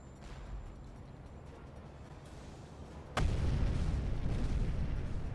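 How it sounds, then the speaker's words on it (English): Air raid bombs explode in the submarine game Uboat during departure from port, a sudden heavy boom about midway that leaves a loud, sustained rumbling roar over faint background noise. "there's an air raid just as we're setting off"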